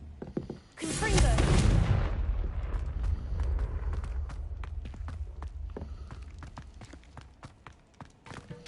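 In Hogwarts Legacy, a cast Confringo fire spell bursts with a loud fiery blast, then trails off into crackling rumble and scattered sharp pops.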